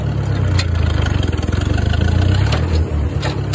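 A tractor in third gear with its PTO engaged while haying runs close and loud, its engine rumble rising slightly as fuel is added, with a steady throbbing pulse throughout.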